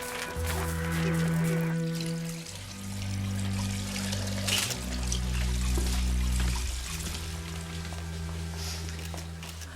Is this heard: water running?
yes